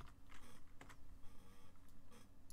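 Typing on a computer keyboard, a quick run of light clicking keystrokes close by at a low level, irregular in rhythm, with no voices.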